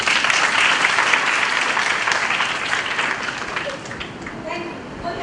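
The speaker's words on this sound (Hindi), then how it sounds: "तालियां तो बजाएंगे।" Sustained, dense audience applause with clapping fills an indoor social etiquettes session, loud and steady before tapering slightly at the end.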